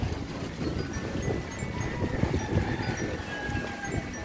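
Strong typhoon wind gusting around a house during a Signal No. 3 storm, a continuous rough roar with rustling and irregular low thumps, steady and fairly loud with no clear talk.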